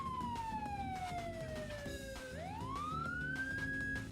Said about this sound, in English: If you try to turn on this siren, the red and blue lights will flash and the sound of the siren will be playing.